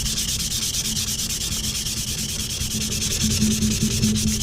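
Steady, continuous rubbing of sandpaper over a soft aluminium effects-pedal enclosure, a close, even scratchy hiss with a low hum running underneath throughout.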